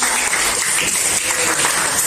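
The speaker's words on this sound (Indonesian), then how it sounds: "tepuk tangan untuk kita semuanya" A class of students claps together, a dense, loud, steady wash of hand clapping from a nearby group, lasting throughout.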